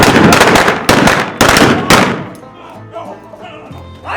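Loud pistol shots ring out during a staged Old West gunfight reenactment in Tombstone, four sharp close bangs in quick succession, then quieter crowd and background noise.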